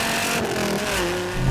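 A second-generation Dodge Viper's engine revs hard under acceleration, a loud, close, continuous roar whose pitch climbs steadily through the short burst, with no talking over it.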